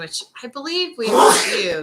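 Someone sneezes once, loud and close, right after a person finishes speaking in a casual conversation.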